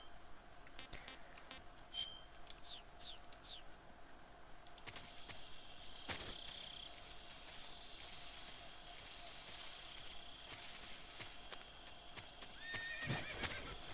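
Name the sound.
horse neighing and hooves in Metal Gear Solid 3 video game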